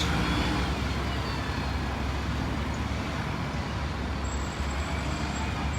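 A bus manoeuvres at Lincoln Central bus station, a steady, close, low engine rumble with broadband road noise throughout and no talk.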